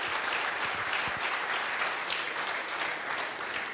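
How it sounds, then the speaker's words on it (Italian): Soft, steady audience applause at a football charity event, a dense wash of clapping heard from some distance and sustained for several seconds without talk. "Se volete fategli l'applauso,"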